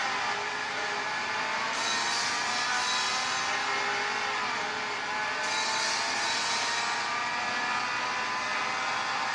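A VW GTI races in a mobile driving game played on a Motorola Atrix HD smartphone, a loud, continuous engine whine with rising and falling revs over game music, steady throughout with no speech.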